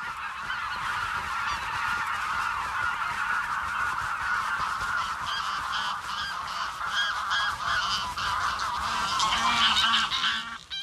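Greylag geese honking loudly and repeatedly, a dense flock of overlapping nasal calls continuing throughout, close and clear with no voices.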